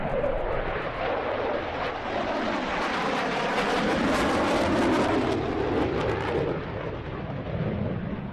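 A MiG-29 fighter jet roars during an air show display, a loud continuous rumbling jet blast that holds steady as the aircraft passes overhead.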